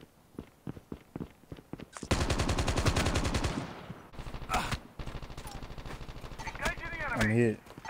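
Gunfire rattles in the Call of Duty Mobile battle royale, with scattered shots, a sustained automatic burst and more firing, while players talk over it.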